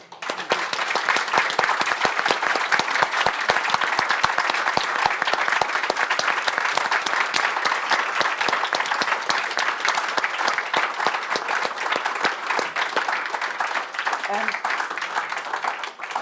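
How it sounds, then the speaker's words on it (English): A seated audience at a Sakharov Prize book event for Afghan women writers gives sustained, dense applause, a steady wash of many hands clapping that stays loud throughout and thins slightly near the end. "I'd like you all to please applaud all of them"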